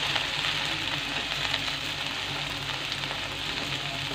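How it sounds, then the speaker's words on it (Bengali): Onion, garlic and green chillies fry in oil left from frying tilapia, giving a constant, dense sizzle close up with no talk. "এখন একে একে আমরা আমাদের পেঁয়াজ, রসুন, কাঁচা মরিচগুলো একটু শুকিয়ে দেবো"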